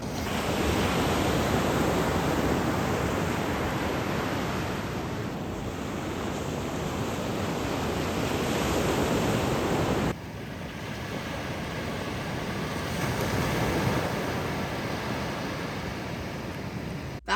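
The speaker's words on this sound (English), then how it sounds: "Not a lot of big waves." Ocean surf on an Oregon coast beach with surfers out and only small waves, a continuous broad roar of breaking water mixed with wind buffeting the microphone, with a slight shift in tone partway through and no voices.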